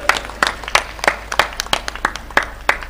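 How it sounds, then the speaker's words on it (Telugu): Crowd applause at a Bahujan Samaj Party public rally in Peddapalli: steady, rhythmic clapping with sharp bursts roughly every third of a second, fairly loud and close, with no talk over it. "ఒక్కసారి గట్టిగా కరతాళ ధ్వనులతో బెహెన్జీ గారికి చప్పట్లు కొట్టండి."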